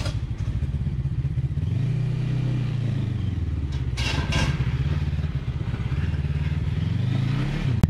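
An FKM Falcon X400 naked sport motorcycle on a test ride drones with a steady engine note that rises and falls as it accelerates and eases off through corners, with wind rush throughout.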